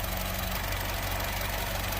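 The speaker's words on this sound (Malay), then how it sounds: "ni masa enjin tengah on" A car engine idles while an automotive circuit tester checks the battery, producing a steady, close, low rumble with an even throb throughout and no voices.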